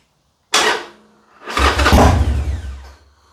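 A Harley Sportster motorcycle that has sat unstarted for about five weeks cranks briefly, pauses, then fires and catches into a loud, rumbling run before settling, with no voices.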